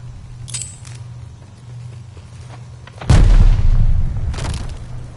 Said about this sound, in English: Glide bomb, ready for time!